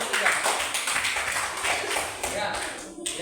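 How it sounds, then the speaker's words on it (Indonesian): A primary-school classroom applauds group 3 after their presentation, a dense, steady wash of many hands clapping close by for about three seconds, tapering at the end. "Tepuk tangan buat kelompok 3."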